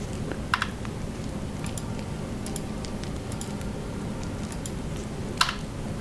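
Computer keyboard typing goes on steadily throughout, with scattered clicky keystrokes over a constant background hum and no talking.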